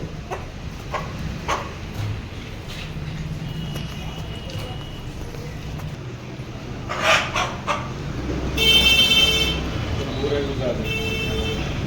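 A large rooster of about five kilograms crows loudly near the end, with people talking and scattered background clatter throughout.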